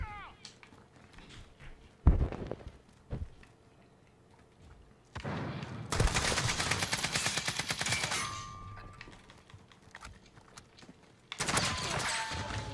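Enemy gunfire in the Warzone video game: a loud single shot, then long sustained bursts of rapid automatic fire, with a later burst near the end, over quieter game ambience.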